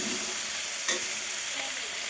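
Garlic is added by hand to a frying pan, with a steady close sizzle of hot oil and a faint stirring scrape throughout.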